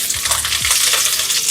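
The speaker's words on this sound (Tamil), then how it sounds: "இப்போ நம்ம முதல்ல பூண்டு போட்டுக்கணும்" Garlic dropped into hot oil for chilli chicken, giving a steady close sizzle with a few sharp clinks and scrapes from a utensil against the pan.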